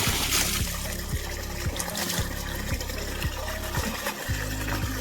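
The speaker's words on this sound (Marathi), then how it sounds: "पाणी झालं सुरू इकडं." Water gushing from a pipe into a maize field on a farm, a steady close trickling and splashing flow with a low rhythmic pumping thud underneath, no talk.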